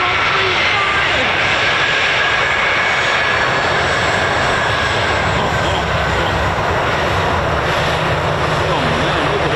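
KC-135 jet engines roar loudly and continuously overhead as the tanker flies circuits at an air base, a broad sustained rumble with no break.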